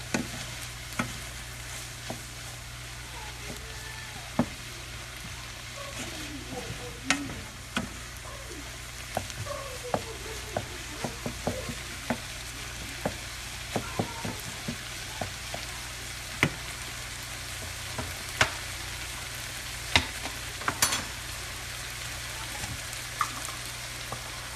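A mushroom sauce simmers and cooks down in a pan, giving a soft continuous sizzle with scattered pops and occasional light clicks over a low steady background.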